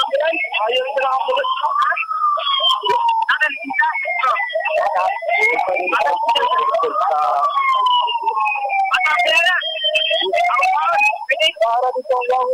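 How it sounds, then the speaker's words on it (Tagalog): A city government ambulance siren wails in long rising and falling sweeps that carry on unbroken and loud, with sharp crackles and clicks scattered over it. "Ang ambulansya ito ni Rafael."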